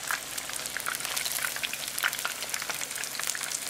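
Busy crackling and popping of tempura vegetables, including sweet potato, frying in hot oil, a continuous sizzle with scattered sharper spits throughout.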